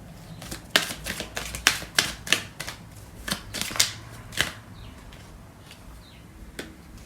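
Tarot cards being shuffled in the hands during a love reading, a quick run of crisp riffling flutters and slaps in bursts, fairly close, with no talking.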